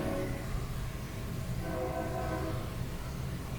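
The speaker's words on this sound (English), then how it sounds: "it sounds like a train" A steady, low rumble of a passing train, with faint horn-like tones in the mix, continuous and moderately distant.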